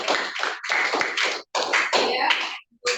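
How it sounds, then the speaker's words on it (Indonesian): A classroom of students applauding together, with dense, loud bursts of clapping in several waves and brief gaps between them. "tepuk tangan untuk kalian semua"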